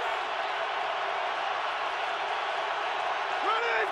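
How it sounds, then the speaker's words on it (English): Dense crowd roar filling a football stadium on Thanksgiving at a Green Bay Packers at Detroit Lions game, a steady wash of noise with faint whoops rising near the end. "This crowd is ready on a Thanksgiving."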